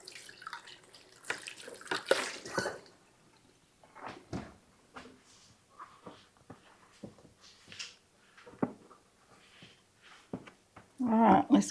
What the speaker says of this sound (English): Wash out our cup here.